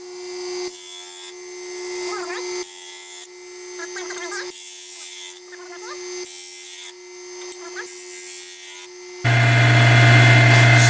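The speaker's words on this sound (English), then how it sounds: "we'll run it through the sander as an example" A disc sander hums steadily while someone talks over it, and he sands a curved profile on a wooden piece. Near the end a much louder, rough grinding burst takes over.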